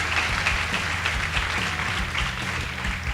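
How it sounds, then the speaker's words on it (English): Steady applause from an audience celebrating the winning girls' team at a school debate contest, a dense continuous wash of clapping throughout with a low background hum beneath. "Let's clap for them."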